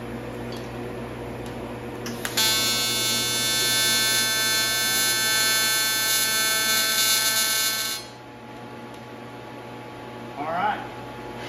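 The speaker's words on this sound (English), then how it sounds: "we'll just weld it up" An electric welder lays a tack weld on an engine dyno setup for a Ford 427 small block, giving a steady, loud, buzzing hum that lasts several seconds and then cuts off, leaving quieter background noise.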